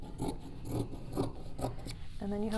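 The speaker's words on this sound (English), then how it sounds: "So trim your oven mitt pattern." Scissors cutting through fabric to trim an oven mitt pattern, a series of about five short rasping snips at a steady pace, close and moderately loud, with a brief voice at the end.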